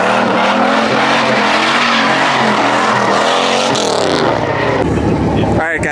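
A car, apparently a muscle car, roars under hard acceleration, its engine note climbing loud and continuous through the gears, with a brief tire squeal near the end.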